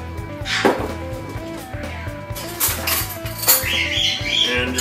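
A utensil stirs venison marinade with garlic in a bowl, producing repeated clinking and scraping knocks against the bowl in a steady rhythm, with occasional sharper clatters in a quiet kitchen.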